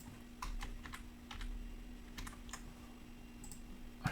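Ctrl+C and Enter keys pressed on a computer keyboard: several quiet, close clicking keystrokes in small irregular bursts, with no talk.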